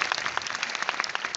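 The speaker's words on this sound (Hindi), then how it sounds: "With a huge round of applause. Put your hands together all of you." Teachers applauding at a school event, a dense burst of many hands clapping together, fairly loud and steady throughout the short moment with no voices over it.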